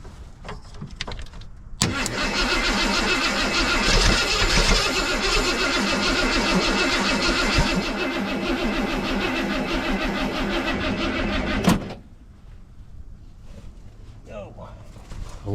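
A 1990 Ford F-250 truck engine cranks steadily on a weak battery for about ten seconds with a labored, slow churning rhythm, then stops; faint voices talk before and after.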